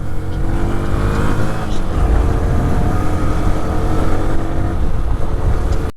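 A vehicle drives on a highway at night, its steady low engine and road rumble continuous and fairly loud throughout, with no talk over it.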